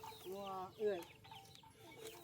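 Chickens cluck nearby among other farm fowl, with short harmonic clucks that rise and fall and a few faint calls in the background.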